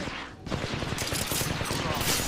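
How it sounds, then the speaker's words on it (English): Rapid gunfire from a shooter video game battle, a dense, loud burst of overlapping shots that carries on steadily through the moment, with a voice speaking over the firing. "The enemies are shooting at me"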